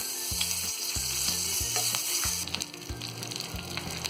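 Green chilies and curry leaves frying in hot oil with fennel seeds, a steady bright sizzle throughout, with a repeating low tonal pattern running underneath and the crackle growing sharper partway through.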